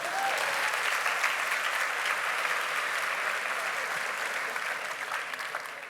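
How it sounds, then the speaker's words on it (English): A large audience applauds steadily in a hall, a dense even wash of clapping that carries on without a break and fades slightly toward the end, with no voices over it. "Round of applause, please."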